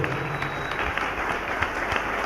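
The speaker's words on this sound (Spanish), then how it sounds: "denle un fuerte aplauso al Señor" A congregation gives a strong round of applause to the Lord at a church service, a dense, continuous wash of clapping from many people that stays even in level for the whole stretch.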